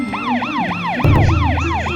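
A wailing, siren-like emergency alert tone at an earthquake simulator sweeps up and down repeatedly in quick cycles, loud and close, with a low rumble joining partway through.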